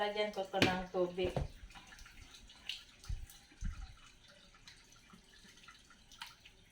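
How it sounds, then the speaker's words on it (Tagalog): Water is poured into a nearly empty dish soap bottle to thin the leftover soap. A brief voice opens, then faint trickling, drips and light knocks follow close by. "Ilalagyan ko ito ng tubig."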